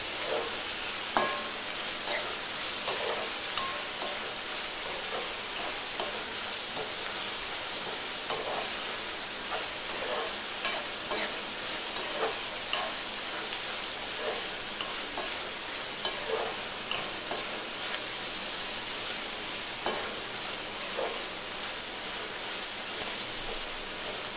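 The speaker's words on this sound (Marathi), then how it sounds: "चांगली एक 5 मिनिटं तरी अशी आपण कांद्यात फ्राय करून घ्यायची सुकट" Dried shrimp (sukat) frying with onion for several minutes, a continuous low sizzle broken by regular light scrapes and taps of stirring, close and fairly quiet throughout.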